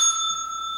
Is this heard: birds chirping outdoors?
no